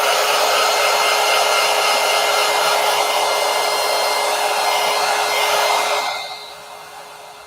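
A hair dryer blows on a paper craft project, a loud, steady whirring rush running for about six seconds before it is switched off and winds down quickly to quiet.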